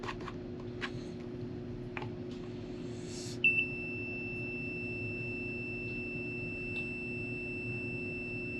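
A multimeter's continuity beep while testing a fuel shut-off solenoid on a sailboat: a steady, thin electronic tone starts a few seconds in and holds to the end, after faint clicks and handling over a low mechanical hum.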